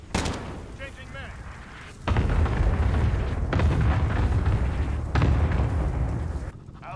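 Cluster strike explosions in a video game land as a string of heavy, booming blasts, each a dense rumbling burst following the last, loud and close.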